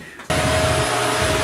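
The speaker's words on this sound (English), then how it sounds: "That was your vacuum sucking up nails and brads and wood and..." A Shark DuoClean vacuum switches on and roars loudly with a steady whine as it sucks up nails, brads and bits of wood while clearing a mobile home closet for new shelves.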